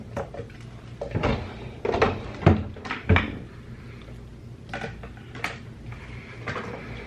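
A bedroom drawer holding clothes slides open and shut with a few close, solid thunks and scrapes spread over several seconds, between quieter moments.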